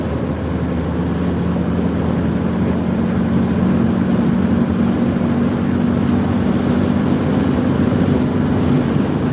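A vehicle engine drones steadily and loudly from inside the cabin on a windy highway toward Yellowstone, a continuous low hum with broadband wind roar and no voices.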